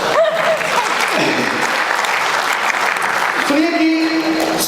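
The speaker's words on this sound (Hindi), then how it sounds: "आप तालियां बजाइए।" At a Hindi poetry gathering, an audience claps steadily for a few seconds while voices speak over the applause.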